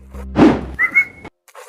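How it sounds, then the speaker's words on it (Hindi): A single short whistle, blown by a person to call a friend's attention, sounds close and fairly loud with a thump before it, then stops abruptly. "मुझे सीटी मारियो पहले"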